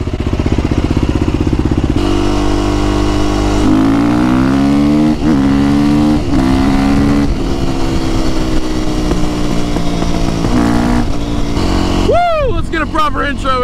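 A KTM 450 supermoto motorcycle engine idles loudly up close as it warms up, with a few throttle blips raising the pitch, ending in sharp rising revs.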